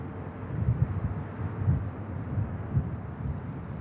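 Six-year-old Boeing Dreamliner operated by Norse UK taking off from a Manchester Airport runway, a broad low rumbling engine roar with gusty wind noise, steady and moderately distant with no talking.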